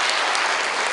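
Steady applause from an audience, dense clapping filling the whole moment at a fairly loud level.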